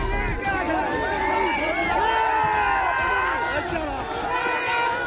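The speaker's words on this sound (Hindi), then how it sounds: "सांसद के खिलाफ नारे भी लगाते रहे" A large crowd of farmer protesters at a border protest site is heard in a dense, continuous roar of raised voices, shouting and chanting together throughout.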